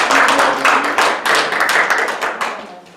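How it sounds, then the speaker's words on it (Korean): Congregation clapping during a Sunday church service, a dense burst of handclaps that stays loud and steady for a few seconds, with a brief dip in the middle. "박수로 축복합시다."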